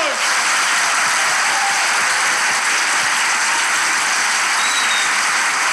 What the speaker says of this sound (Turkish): İlişki testi harikulade bir kalabalıkla. Alkışlarla başlıyor!